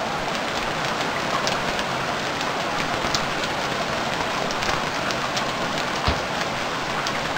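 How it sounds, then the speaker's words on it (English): Rain falls steadily in the survival video game Stranded Deep, a constant close hiss of drops with scattered louder patters and no voices. "Seeing as it's raining, I decided to use this time to build the rest of my home"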